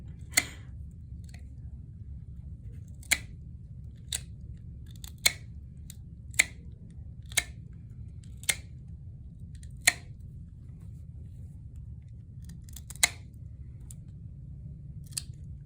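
Sharp, isolated snips of nail clippers trimming a dog's toenails, about a dozen crisp clicks spaced irregularly every second or two against a low steady hum.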